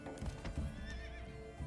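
A horse in a stable in the video game Manor Lords, giving a close, clear whinny with a breathy snort and low shuffling hoof sounds, with no talking.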